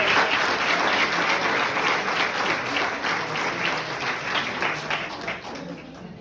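A church congregation claps during a morning service, a full steady round of applause that gradually thins and fades toward the close.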